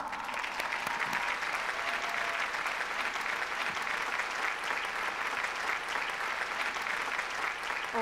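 An audience applauds at an Amway diamond-level award ceremony, a sustained, even roar of many hands clapping that continues steadily without pause.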